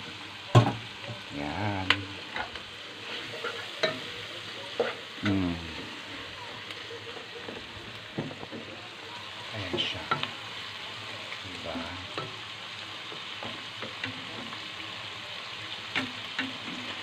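Squid stir-frying in a pan for a seafood dish in oyster sauce with hot chili, a steady soft sizzle under intermittent stirring scrapes while someone talks over it.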